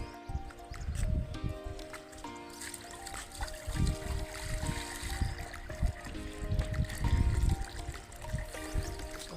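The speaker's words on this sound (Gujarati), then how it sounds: "તાવો મુકાઈ ગયો અને આ પાણી નાખી દેતો" Water poured from a bucket into a metal tray set out on a rooftop, a steady trickling and splashing stream with some clanking, fairly close and continuous throughout.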